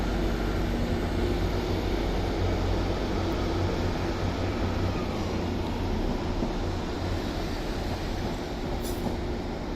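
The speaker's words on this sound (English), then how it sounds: "we have a empty stock movement to Manchester Piccadilly from the 150 128" A Class 150 diesel unit on an empty stock movement rumbles steadily through Stockport station, a continuous low engine and wheel drone that stays loud and close for the whole stretch with no voices.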